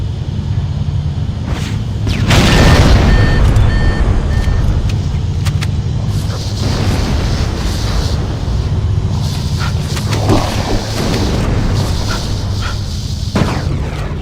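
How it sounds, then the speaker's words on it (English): Fusion reactors in the engines of a ship explode in the Halo video game, giving loud sustained rumbling booms and roaring blasts with crackling debris that continue throughout, dense and close, with no talk. "That should be enough to trigger a wildcat explosion of the engines."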